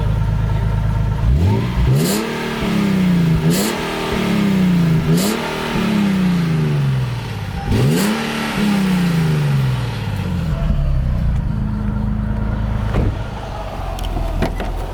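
A Nissan 370Z Nismo on its stock exhaust, before a Tomei system goes on, revs hard four times in quick succession, each rise swelling and then falling away, close and loud with a brief pause between bursts.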